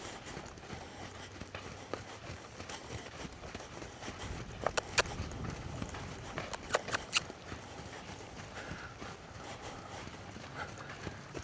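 Hooves clop on soft ground in an uneven walking rhythm, a few sharper knocks standing out, with quiet outdoor ambience and no talking.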